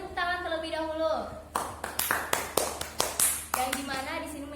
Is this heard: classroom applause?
yes